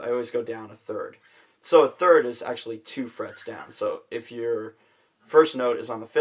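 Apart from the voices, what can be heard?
No everyday noises stand out.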